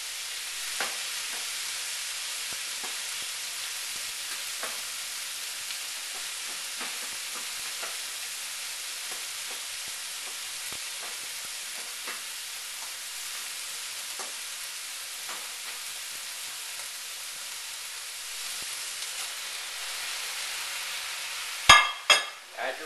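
Beef fried rice vegetables stir-fry in a pan with a soft, continuous sizzle and faint scrapes, ending in a few louder metallic clinks of a utensil; no voices are heard.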